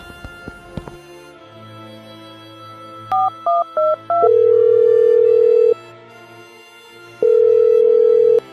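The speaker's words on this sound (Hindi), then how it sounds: "फोन की घंटी बजती है" Telephone tones in a dramatized Hindi story scene: a short run of quick electronic beeps, then two long steady ringing tones separated by a pause, loud and clear with no talking.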